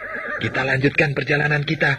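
A horse whinnies loudly in a radio drama, the neigh mixed with someone speaking in Indonesian, close and prominent over faint hoof clopping.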